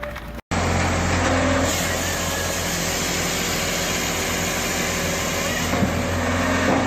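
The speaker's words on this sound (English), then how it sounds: "the woodbine log splitter hums steadily in the busy lumber yard" A Woodbine hydraulic log splitter engine runs in a busy lumber yard, giving a loud, steady mechanical hum and drone that carries on unbroken after a brief cut at the start, with no voices over it.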